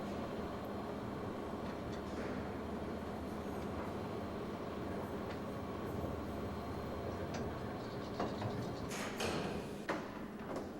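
A train rolls along the tracks in a steady low rumble with clanks and metallic squeals near the end, the footage playing from an old VHS tape.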